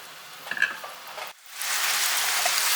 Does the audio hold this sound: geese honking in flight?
no